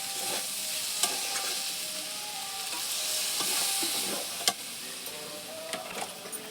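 Steady close sizzle and hiss as water goes into a pan of fish curry being fried, with a few sharp clicks and scrapes of stirring over the continuous frying noise and no talk.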